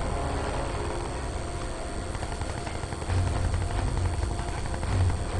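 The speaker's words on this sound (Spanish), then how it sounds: "Bueno, el helicóptero está acá, pero no sé en dónde." Helicopter in the video game Crysis 2, a loud continuous rotor drone mixed with dense combat noise, growing a little heavier partway through.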